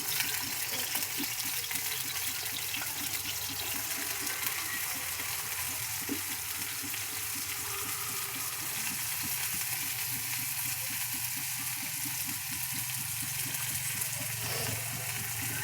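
Finely chopped onions and potatoes sizzle steadily in hot oil in a pan, a continuous, even crackling fry with a low background hum and no pauses.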